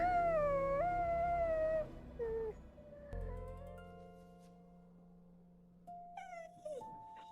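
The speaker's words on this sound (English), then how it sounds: "A small, frightened dog." A small, frightened dog whimpers and whines in a series of high, wavering cries, some long and some short, fairly faint and alone, with a hurt leg.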